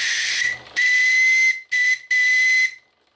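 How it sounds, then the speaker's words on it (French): A steam whistle on a live steamboat engine blows in four shrill, hissing blasts of uneven length that release steam, with short silent gaps between them and a faint low rumble early on; loud and close. "le sifflet a aussi la fonction de laisser tomber rapidement la vapeur"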